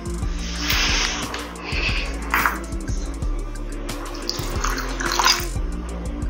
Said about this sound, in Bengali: এই যে ছাড়িয়ে নিয়েছি ধুয়ে রেখে দিই ভালো করে